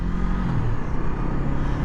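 A 2016 Honda CB500F with a 471cc parallel twin runs in sixth gear at about 70, giving a steady, droning engine hum mixed with road and wind rumble, with no voices.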